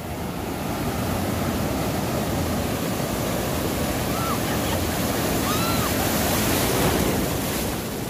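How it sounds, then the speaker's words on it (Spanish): Ocean surf at Majahual beach in El Salvador roars steadily and loud, a constant broadband wash of breaking waves with wind buffeting the microphone, and a few faint bird calls above it. "No, ahorita no están fuertes las olas, señores."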